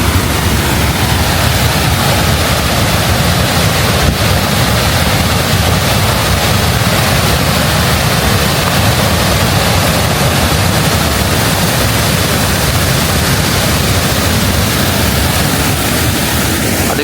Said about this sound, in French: on ne voit pas souvent cette cascade